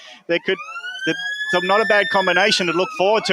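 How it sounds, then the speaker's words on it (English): A long, loud siren signals the start of a local football game between Doncaster and Donny East, a single sustained tone under steady commentary from a voice. "That is the siren to start the game here at Doncaster versus Donny East."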